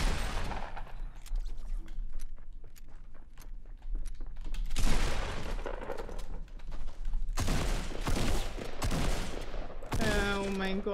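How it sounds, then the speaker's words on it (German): Gunfire in the video game Fortnite: rapid bursts of automatic shots and scattered single cracks, close and sharp, with heavier volleys partway through and a voice speaking briefly near the end. "Er schießt ihn."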